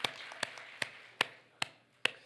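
Church congregation clapping in worship, heard as a steady series of six sharp, evenly spaced claps in a reverberant hall.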